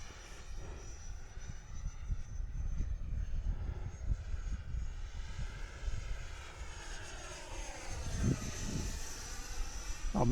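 An Xfly T7 RC model jet flies overhead at an outdoor field, its engine a faint, sustained whine that drifts and swells as it passes at a distance, with low wind rumble throughout.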